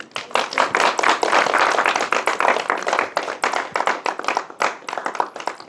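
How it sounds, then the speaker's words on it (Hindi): Dense, loud clapping from a crowd at a village panchayat election gathering, steady for several seconds and then thinning into scattered claps near the end, with no speech over it. "ताली"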